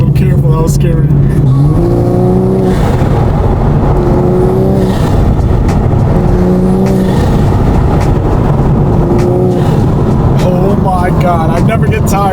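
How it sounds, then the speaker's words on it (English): Inside a modified BMW A90 Supra with a B58 engine on cold tires, the motor drones and surges loudly through gear changes beneath steady road noise, with someone talking over it. "God, I never get tired of that engine sound. The B58 sounds so good."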